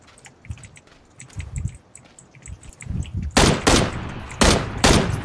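Gunfire in the battle game PUBG, several loud, sharp bursts in the second half, following softer thumps and clicks in the earlier part.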